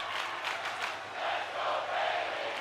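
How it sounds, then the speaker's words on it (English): A wrestling arena crowd in the WWE 2K25 video game, a broad steady roar of cheering with rising and falling swells, heard alone for a few seconds. "And then the crowd are behind Bayley here tonight"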